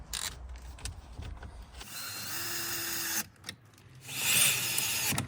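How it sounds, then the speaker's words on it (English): A power driver spins Phillips screws into the bottom of a replacement head unit in a Toyota Land Cruiser 200 series, with a couple of steady whirring bursts and a pause between them at close range. "So our Phillips screws goes in at the bottom."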